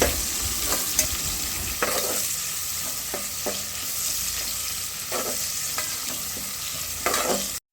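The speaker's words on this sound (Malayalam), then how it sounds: "ഉള്ളി നന്നായി വാടിയതിന് ശേഷം അരച്ച് വെച്ച മസാല ചേർത്ത് അത് നന്നായിട്ട് അതിൻ്റെ പച്ചമണം മാറുന്നത് വരെ ഇളക്കി കൊടുക്കും." A spoon scrapes and stirs ground masala paste into sautéed onions for mutton kurma, sizzling steadily in the pan with periodic scraping strokes every second or so, close and alone.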